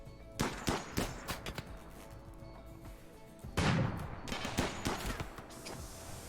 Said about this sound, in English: Turning on all the guns.